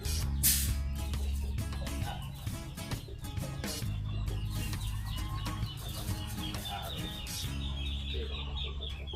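Hens clucking in a backyard poultry pen, a close, continuous run of clucks and squawks with occasional wing flapping.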